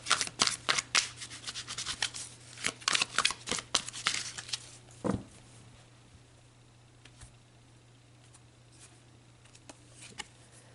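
Tarot cards are shuffled and handled up close, a quick burst of crisp riffling and flicking snaps that thins out into a few scattered, softer card slaps over a low steady hum.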